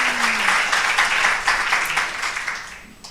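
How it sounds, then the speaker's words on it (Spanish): A church congregation claps and applauds steadily, a dense wash of hand claps at moderate distance that tapers slightly toward the end, with no speech over it. "denle un aplauso a Jehová"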